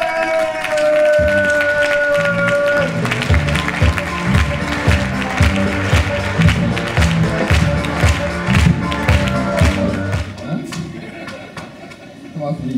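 A crowd at a stage event claps and cheers loudly to welcome a trumpet performer. The dense applause runs for about ten seconds with thumping beats and a voice amplified over it, then fades near the end.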